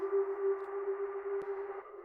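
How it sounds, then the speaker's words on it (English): A granular 'sonar' synth patch built in Ableton for an electronic track breakdown rings as a steady, sustained tone with soft shimmer, holding level for about two seconds with one faint click partway through. "here's my granulizer sonar sound thing"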